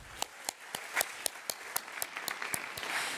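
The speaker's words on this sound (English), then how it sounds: "Let's give her a round of applause as well" Audience applause at a youth summit on human capital, a crowd clapping for a participant with distinct sharp claps at a steady rhythm rising into a fuller wash toward the end, moderately distant and without voices.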